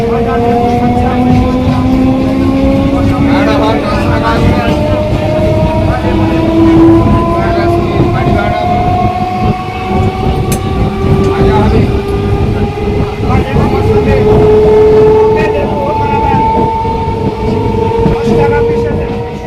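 A Goghat local train from Howrah rolls past Nalikul and its railgate, a steady, loud rumble with rising whining motor tones and a faint clatter running throughout, heard continuously from on board.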